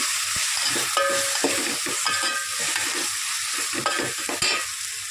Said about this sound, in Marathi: हिरवी मिरची ॲड करून घेतलेली आहे ती पण छान परतून घ्यायची तेलामध्ये